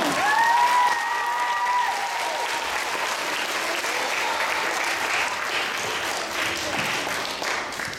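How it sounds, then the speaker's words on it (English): An audience gives a performer a round of applause: dense, steady clapping that stays loud for several seconds, with a whistle near the start, then tapers off slightly at the end. "Give him one more round of applause."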